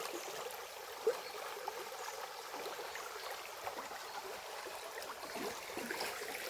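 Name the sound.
flowing stream water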